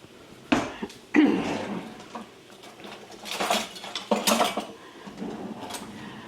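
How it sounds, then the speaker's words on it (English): Metal spatula scraping and chopping partly frozen meat inside a multicooker pot, a few sharp clanks followed by busier scraping and knocking, close and fairly quiet, no talk. "I went ahead and cut them with my metal spatula"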